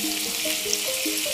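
Chicken pieces fry in a pan over high gas flame, a continuous close sizzle and spatter with faint higher tones running through it and no talking.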